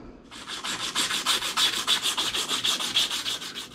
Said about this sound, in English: take some sandpaper and clean the shaft of the new motor and put it in